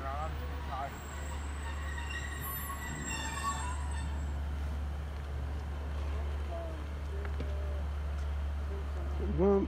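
Two-carriage train passing through Swinton station, a steady low rumble with faint wheel squeals and rail noise at moderate distance, with a voice talking over it.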